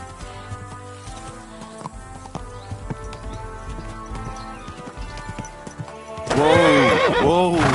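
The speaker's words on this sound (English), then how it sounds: "Easy, good horse." A horse in the video game Kingdom Come whinnies loudly near the end after steady clip-clopping hooves and background music, with a rider's voice calming it.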